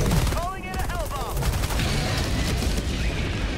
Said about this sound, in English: I'm calling the airstrike on these guys off our 12.